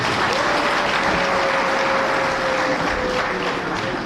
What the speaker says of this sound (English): Let's give him a bigger clap.